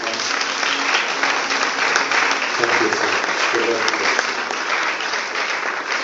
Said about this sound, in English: Let us clap to the Lord